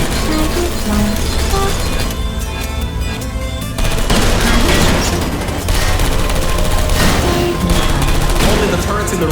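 Turrets in Portal Stories: Mel fire rapid, loud, continuous bursts of gunfire that fill the whole stretch, with a brief thinning midway before the dense shooting resumes.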